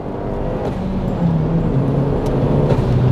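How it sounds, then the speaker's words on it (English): Toyota Caldina GT-Four turbo engine accelerating, a steady, fairly loud drone that builds slightly in pitch and intensity throughout. "In a straight line, the turbo noises"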